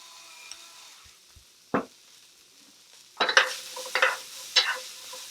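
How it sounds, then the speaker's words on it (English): Mixed vegetables, carrot among them, sautéing in a pan for bibimbap: a quiet background sizzle broken by a handful of short, distinct stirring scrapes, clustered toward the end. "So we're going to saute these for about a minute or two, depending on how firm you like the vegetables."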